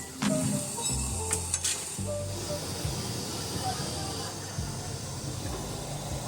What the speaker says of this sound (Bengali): এরপর পটলগুলোকে ভাজা হলো।